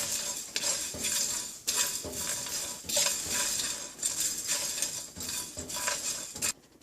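Whole spices and seeds being dry-roasted in a pan for a dabeli masala, stirred steadily with a utensil that scrapes and clinks against the metal in repeated strokes, close and fairly loud.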